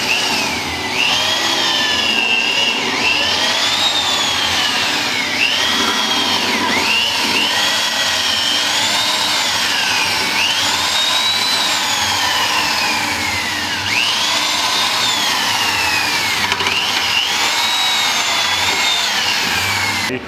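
A power drill boring out bushings whines loud and near, its pitch repeatedly sliding up and down as the bit bites and frees over a steady mechanical drone.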